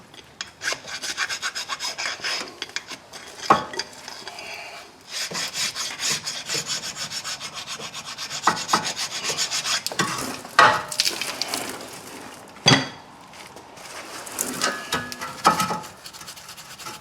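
Brake dust and light corrosion being scrubbed off the rear brakes of a 2012 Nissan Altima 2.5L, with repeated close rasping strokes in irregular bursts separated by short pauses and sharp knocks.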